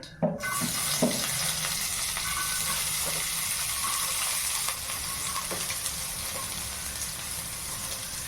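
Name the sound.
onions frying with cumin seeds in a pan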